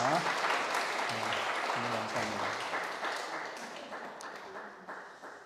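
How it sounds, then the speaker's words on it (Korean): A church congregation claps to welcome a member back, the applause moderate and fading gradually over a few seconds, with a faint voice under it. "여러분 큰 박수로 한번 환영해 주시기 바랍니다"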